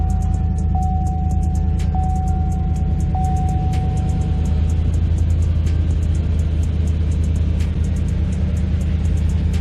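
A 6.2L GMC Sierra V8 with a newly fitted ZR1 LT5 throttle body idles steadily, a continuous low rumble close by with faint ticking and a brief tone early on, no voices.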